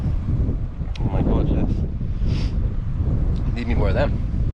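Cold wind on a hiking trail in Cape Wrath buffets the microphone in loud, continuous gusts with rough low rumble, while a person speaks briefly under it.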